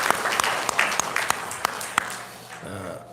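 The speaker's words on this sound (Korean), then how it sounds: "그 모든 분들을 우리 환영하는 마음으로 박수로 하나님께 영광 올리겠습니다" A church congregation claps in welcome during a Sunday service, a dense, even patter of many hands with a few sharper claps, dying away at the end as a voice begins.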